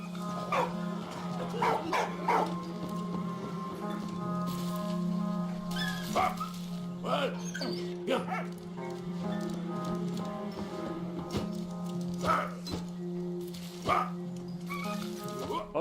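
A dog in the World War I video game Valiant Hearts barks and yips repeatedly over a steady tonal game soundtrack, while someone talks intermittently throughout.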